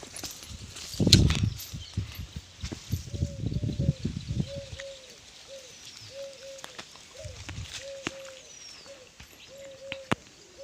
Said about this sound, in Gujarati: આપણા કબૂતર